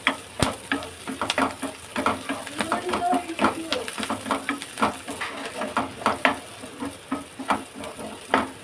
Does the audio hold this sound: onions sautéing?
yes